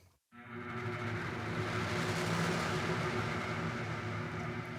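An amplified viola da gamba played through a fuzz distortion unit gives a thick, buzzing sustained tone that starts abruptly after a brief silence and holds steadily loud for several seconds with dense, gritty harmonics.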